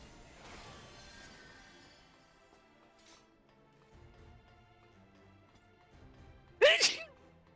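Someone sneezes once, sharp and close, near the end of a long quiet stretch with faint background sound and no talk.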